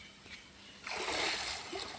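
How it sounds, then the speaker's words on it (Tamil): A man bathes in salt water at a spot reached on a snakehead fishing outing. After a quieter moment, a close, loud burst of splashing and sloshing water rises and lingers. "எவ்வளோ ஆனந்தமாக குளிச்சுட்டு இருக்காங்க பாருங்க"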